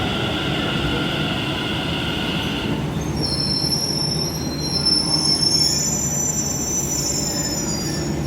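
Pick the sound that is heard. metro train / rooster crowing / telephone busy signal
metro train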